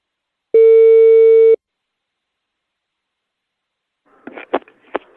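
A telephone line tone sounds as a call is placed to a woman, one steady loud tone lasting about a second, then silence, followed by faint, brief clicks and rustles near the end.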